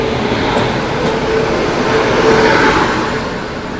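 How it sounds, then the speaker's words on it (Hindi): The Banaras–New Delhi Kashi Vishwanath Express rolls past at close range, a loud, steady roar of wheels and wagons that holds evenly with no voices. "सामने से आ रही है आप लोगों की बनारस नई दिल्ली काशी विश्वनाथ एक्सप्रेस"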